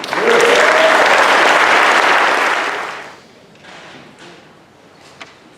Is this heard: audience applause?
yes